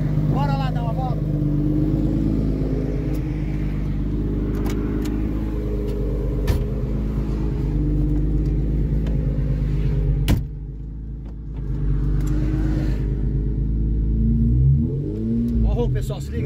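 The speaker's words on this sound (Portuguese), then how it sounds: "Mostra o escape pra galera aqui. Olha o escape. Se liga no escapamento." A VW Variant fitted with a swapped Subaru 3.0 six-cylinder idles and revs with a deep, steady exhaust rumble heard close up, a brief dip and a few rises in engine speed, with people talking faintly over it.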